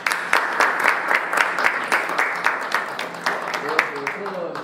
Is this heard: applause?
yes